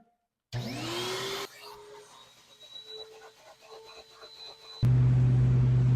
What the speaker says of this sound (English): This part always sucks. And it's supposed to because it's a vacuum.